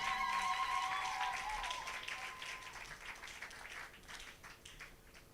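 A church congregation at a Sunday service claps and cheers in praise of God. The sound is a steady, fairly faint wash of many hands clapping with sustained musical tones beneath, fading slightly toward the end.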